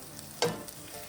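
Green peas with spices are stirred and sautéed in a pan: one brief scrape and sizzle burst rises over a faint low frying hiss, heard up close.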